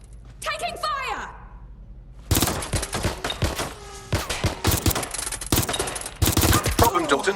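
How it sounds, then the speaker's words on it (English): A short electronic tone sweep gives way to loud, dense automatic gunfire in the video game Watch Dogs Legion, with rapid bursts and sharp cracks hammering almost continuously for several seconds. "Taking fire!"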